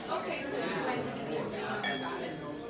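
Wine glasses clink together in a toast during dinner at a Disney World restaurant, a bright brief chime near the end amid steady dining-room chatter and background voices.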